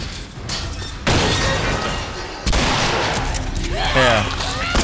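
Gunfire in the video game The Last of Us Remastered, loud sharp blasts and bursts over dense game sound effects, with a voice heard briefly near the end.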